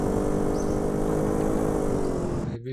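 A motorcycle ridden up a mountain in a video game, its engine droning steadily and loudly with a constant harmonic hum before cutting off abruptly near the end.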